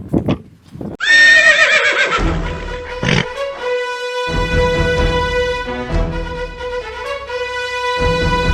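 A horse on a farm lets out a loud, long whinny that rises and then trails off in shaky, wavering breaths, preceded by a few quick hoof clops and followed by more snorting neighs close by.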